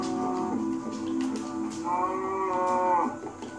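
A cow in Minecraft gives a drawn-out, wavering moo twice in a row, clear and fairly close, with faint background game ambience and no talk over it.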